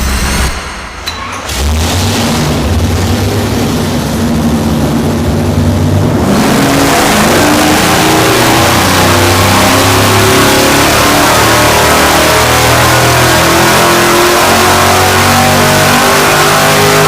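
Supercharged V8 on an engine dyno, revving hard and loud with a continuous roaring pull that builds and sustains across the whole clip, close and alone without talk.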